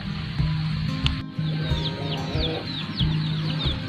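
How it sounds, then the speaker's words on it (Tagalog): Several native chickens cluck and murmur in low, repeated bursts on an upland farm, with chirping birds higher above and steady outdoor background noise. "marami na kami ditong native na manok"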